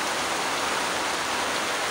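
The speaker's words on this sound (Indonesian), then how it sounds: "Hujan juga suaranya kencang, suara hujan." Loud, heavy rain falls steadily in a dense, continuous hiss at an agarwood plantation, with no pauses and no voices.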